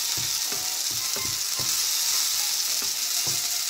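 Spices sizzle steadily in a hot pan for a dish of red beans with paneer, with chili powder just added, while a spoon scrapes and stirs in repeated, evenly spaced strokes close by.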